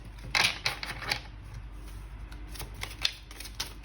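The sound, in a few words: shuffling a deck of tarot cards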